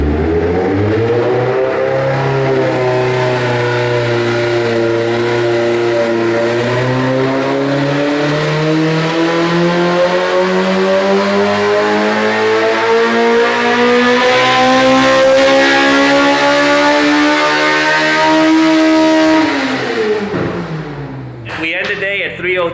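A Honda K24 engine climbs through a long sustained rev toward 10,000 rpm, a loud rising multi-harmonic howl that dips and climbs again before cutting off sharply near the end.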